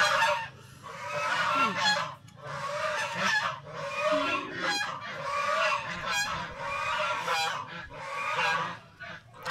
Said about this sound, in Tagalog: ingay ng gansa